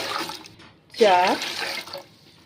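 Water is poured from a half-litre copper mug into a pot for cooking biryani rice, a short splashing pour standing out near and clear between quieter moments.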